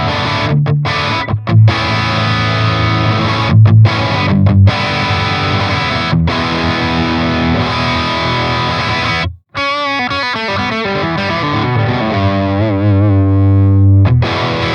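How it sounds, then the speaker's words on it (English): Electric guitar through a Friedman BE-100 Deluxe amp with the gain turned all the way up, playing loud, heavily distorted classic-rock crunch chords and riffs with a brief cut of silence midway, no talking. "Let's turn up the gain all the way and see what happens."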